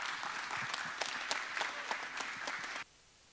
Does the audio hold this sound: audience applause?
yes